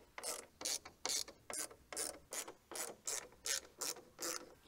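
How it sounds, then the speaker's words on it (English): Three T20 screws are undone on a BMW M2 daytime running light module with a ratcheting tool: about a dozen rapid, evenly spaced clicking bursts, close-up and crisp. "So we're gonna get these removed by undoing three T20 screws."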